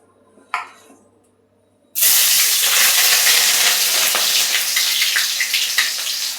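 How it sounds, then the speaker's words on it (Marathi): Green chillies hit hot oil after a quiet moment and a single clink, then a loud, steady sizzle and crackle of frying takes over and continues up close. "तसं तेल भाजले बघा. मिरच्या टाकून घेते पहिला."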